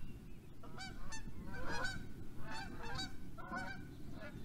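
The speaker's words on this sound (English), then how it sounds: "Oh, here comes some geese, guys." Geese honk repeatedly overhead, a scattered chorus of calls over a steady rushing background, moderately loud and passing by.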